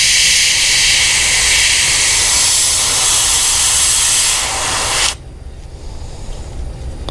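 An airbrush sprays paint onto a model clownfish in a loud, steady hiss of air that cuts off abruptly near the end and leaves quieter background noise.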